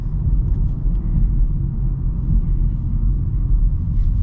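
A 2024 Nissan Leaf electric car accelerates, heard from inside as a steady low road-and-motor rumble that holds fairly loud and even throughout, with no talking.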